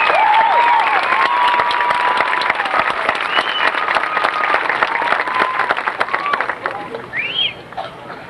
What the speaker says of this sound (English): just like a round of applause for the staff.